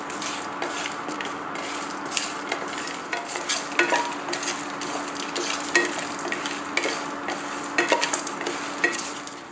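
Dry coriander seeds rattle and scrape in a hot pan, with steady stirring and a soft crackling sizzle, close and continuous without talking.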